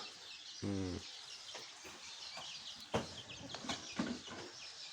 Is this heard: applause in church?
no